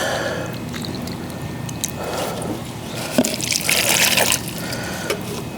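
Water pours from a measuring cup into a seed-starting container, a steady trickling splash that swells louder toward the end, close by and heard alone.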